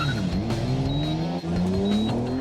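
A race car on a hot lap at Wakefield Park Raceway, its engine droning loud and steady with rising and falling pitch as it accelerates and shifts, close and continuous with no talk.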